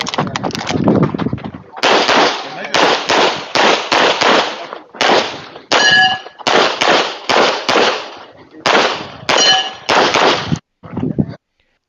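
Rapid, steady gunfire at a USPSA shooting stage, loud and close, with shots in quick even strings broken by brief pauses and occasional metallic rings from steel targets.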